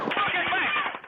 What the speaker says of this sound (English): capturing the intense horror, volley after volley of relentless gunfire